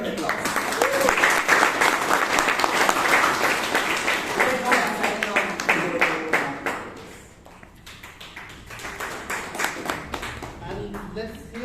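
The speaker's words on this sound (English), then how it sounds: "let's give all the speakers a good round of applause" Audience applause for the speakers at a Bangalore Toastmasters meeting, a dense round of clapping that fills the first seven seconds, then thins as a voice starts talking over the scattered claps that remain.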